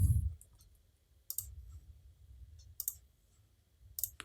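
Computer mouse clicks while working in Photoshop, a few sharp, quiet clicks spaced about a second or more apart over a low background hum.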